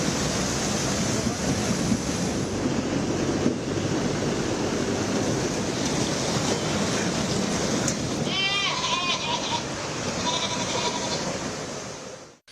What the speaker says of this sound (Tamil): சாலையில் பெருக்கெடுத்து ஓடும் மழைநீரால் வாகனங்கள் நீந்திச் செல்ல வேண்டிய நிலை ஏற்பட்டுள்ளது